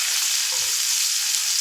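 Onion fries in a pan, giving a steady, even hiss of sizzling oil at close range for a brief moment, with no voices and no stirring strokes standing out.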